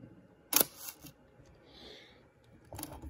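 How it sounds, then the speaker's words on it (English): Leica iiiF rangefinder camera firing its shutter at 1/25 second, a sharp metallic click followed by a brief mechanical whir and a softer second snap, then winding noises, close and quiet. "I'll just demonstrate the shutter."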